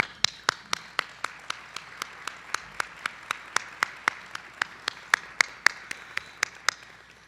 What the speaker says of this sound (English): if we could give them a round of applause for everything they do for this amazing organization